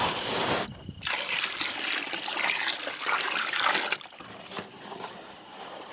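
A pan of clean water pours into muddy ore sludge with a steady splashing gush, close and loud, easing into trickles and dribbles after a few seconds.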